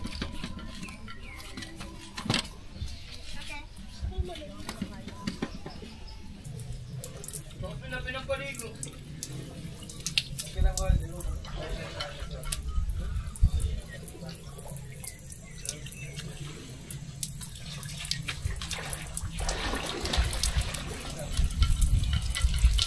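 Water runs and splashes steadily at a campsite shower area in Viewscape Nature Park, Tanay, Rizal, with pattering and dripping close by; people talk intermittently over the continuous flow.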